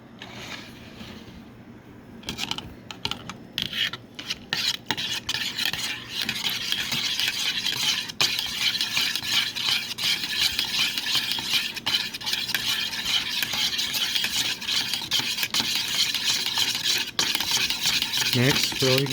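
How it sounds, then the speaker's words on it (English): A whisk beating homemade sanitizer in a bowl, rapid rhythmic clinking and scraping against the sides that starts after a brief quiet moment and continues steadily and close. "Now I'm going to mix this. I'm going to use my whisk"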